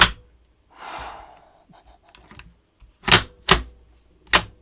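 Metallic clicks and slides of a Mauser Kar98k bolt action being worked close up, with a soft sliding rasp followed by several sharp, distinct clacks near the end.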